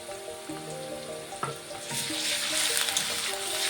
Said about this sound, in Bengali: এখন আদা আর রসুন বাটা দিয়ে দেবো।